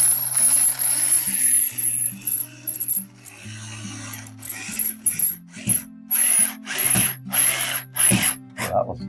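A screwdriver drives flathead screws into wall plates in short, loud, grinding bursts broken by pauses, over a steady background hum.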